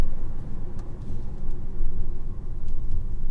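A 2023 DS3 Opera E-TENSE drives along with a steady low road rumble and muted engine hum, heard from inside the cabin, constant and moderately loud with no voices.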